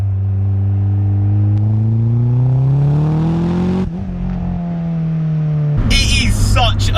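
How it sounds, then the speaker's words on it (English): Turbocharged 240 bhp Renault Clio 172, a small front-wheel-drive French hatch, pulling hard on boost with a loud engine note rising steadily in pitch, a brief drop at a gear change, then rising again before a burst of clatter near the end. "front wheel drive, turbocharged, small French car, you're expecting something else when you do come on boost"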